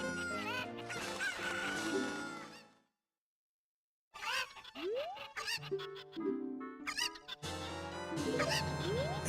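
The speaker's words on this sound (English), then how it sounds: "we got chickens going on" Chicken clucks and a rooster crow from the Ocarina of Time game, short bright synthesized bursts over game music, broken by a few seconds of silence before resuming alongside more melodic game sounds.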